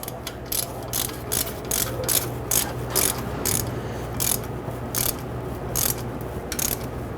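Ratchet tightening a nut on a 1999-2004 Jeep Grand Cherokee wheel bearing job, a close series of sharp clicking bursts in a steady repeated rhythm, about a dozen strokes with no talk.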